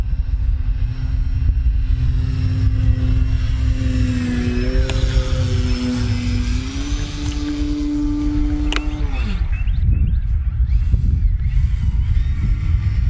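A radio-controlled 3D aerobatic propeller plane doing torque rolls on a windy field, its electric motor whining loud and close with a rising and falling pitch, over steady wind rumble.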